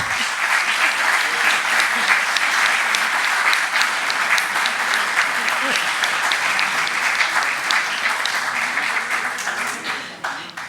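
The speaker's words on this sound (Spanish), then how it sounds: "Entonces, yo solamente quiero que le demos un gran aplauso a José Pipo." Sustained applause from a conference audience after a talk, steady and dense with many hands clapping together, holding at an even level for about ten seconds before thinning slightly toward the end, with no talk over it.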